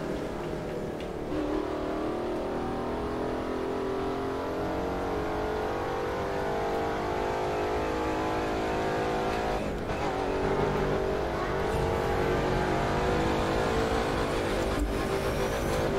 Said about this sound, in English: this thing sounds like it's about to blow up when I hit top speed